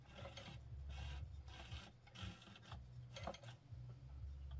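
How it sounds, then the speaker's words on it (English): Hand wheel of a Penncrest 3400 sewing machine being turned through one full revolution, giving a steady low mechanical whir with soft rubbing and ratcheting clicks, close and continuous with no talking. "turn the hand wheel towards you one full revolution"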